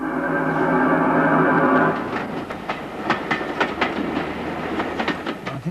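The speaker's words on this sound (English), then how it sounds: "A4s coming out of Waverley Station and all sorts of trains screaming" A train, such as an A4 steam locomotive leaving Edinburgh Waverley Station, passes close by: a sustained tonal whine gives way to rhythmic clickety-clack of wheels over rail joints.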